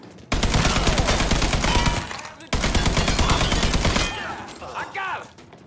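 Video game gunfire in sustained loud bursts, dense rapid shots cutting off briefly then resuming, with a shouting voice near the end.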